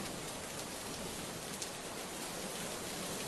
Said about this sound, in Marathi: ढगांच्या गडगडाटासह नागपुरात पाऊस सुरू आहे